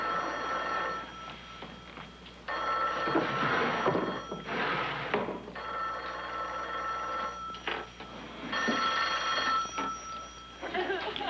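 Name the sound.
telephone ringing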